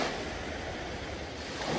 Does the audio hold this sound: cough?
no